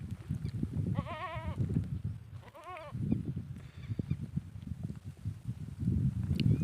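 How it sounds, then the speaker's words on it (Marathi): Goat bleating on a village farm: two clear wavering bleats close by in the first few seconds, with a fainter call later, over steady outdoor background rumble and no talk. "शेळी ओरडतीये"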